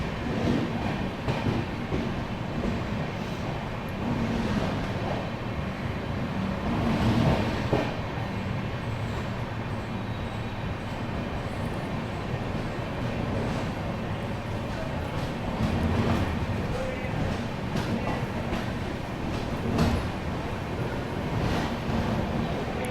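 Pragati Express passenger train running through the Bhor Ghats in heavy rain, a steady loud rumble with rhythmic clatter of wheels over rail joints continuing throughout, no talk.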